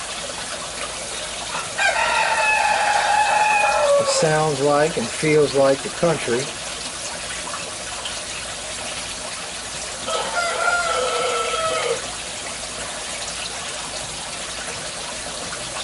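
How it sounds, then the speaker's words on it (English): A rooster crows twice with long, strained calls, plus a shorter crow in between, while a person talks briefly over steady city background noise. "Don't you just love that sound of the roosters crowing"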